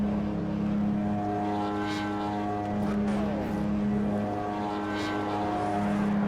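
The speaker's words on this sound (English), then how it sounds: "The engine sounds really weird when you're on pit road and hit the limiter." A steady buzzing race car engine drone in Project CARS held at one pitch, with a slight stuttering pulse as it bounces off the rev limiter on pit road, continuous and loud.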